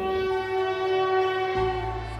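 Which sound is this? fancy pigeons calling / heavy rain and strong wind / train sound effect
train sound effect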